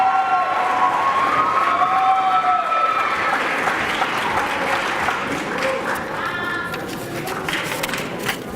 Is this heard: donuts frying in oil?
no